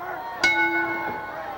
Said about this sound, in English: The bell has sounded, and Jeff Rates